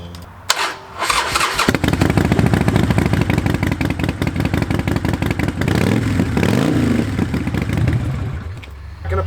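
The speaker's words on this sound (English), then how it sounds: "First time firing up the bike." A Harley Sportster motorcycle engine firing up for the first time after an oil fill: a short cranking clatter, then the engine catches into a loud, rapid, throbbing idle with a few revs, close by.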